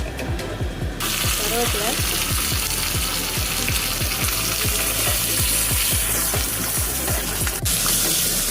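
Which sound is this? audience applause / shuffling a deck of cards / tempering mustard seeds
tempering mustard seeds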